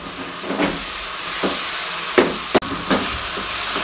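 Chicken pieces fry with spices in a pan over medium flame, a steady close sizzle and hiss broken by a few stirring scrapes and clinks.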